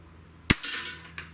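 A Hatsan Model 25 SuperTact Vortex air rifle fires once at a small target, giving a single sharp, loud crack followed by a brief ringing tail and a faint later tick.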